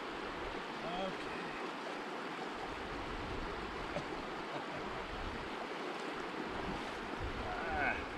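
Water of a small river in Wales rushing steadily as it is crossed on a bikepacking trip, a continuous broad outdoor wash with wind, faint voices occasionally audible underneath.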